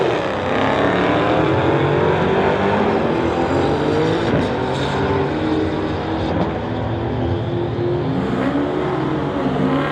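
Engines roar loudly and continuously as a 2015 Dodge and a 1996 VW Golf race side by side down a drag strip at a street-legal event, with a steady sustained drone and no talk.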